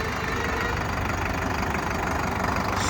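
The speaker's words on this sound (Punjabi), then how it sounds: "ਤੁਹਾਡਾ ਇਹ ਟਰੈਕਟਰ ਬਾਈ ਤਿੰਨ ਸਿਲੰਡਰ ਇੰਜਨ ਦੇ ਵਿੱਚ ਵੀ ਆਉਂਦਾ" Sonalika DI55 tractor diesel engine idling nearby, a steady, dense rumble that holds an even level for the whole stretch, with no voices over it.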